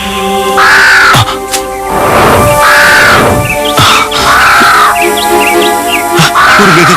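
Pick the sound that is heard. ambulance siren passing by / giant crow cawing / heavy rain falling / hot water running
giant crow cawing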